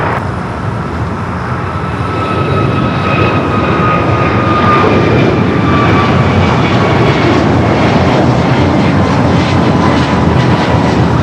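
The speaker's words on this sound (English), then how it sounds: "the flight to JFK rolling down at 25 right" A jet airliner bound for JFK takes off on runway 25 right at LAX, its engines giving a steady, loud, broadband roar with a faint high whine throughout, no talking.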